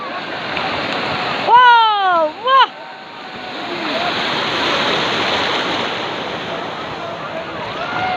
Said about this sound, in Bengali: বড় বড় ঢেউগুলো বেশ ব্যাপক